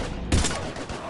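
Mass Effect 3 combat gunfire: one sharp, punchy shot lands close, followed by fainter scattered fire and a trailing whine, all within about a second.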